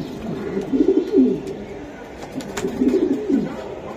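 Two racing pigeons coo close by in two throaty rolling phrases separated by a short gap, with faint background noise and some light clicks.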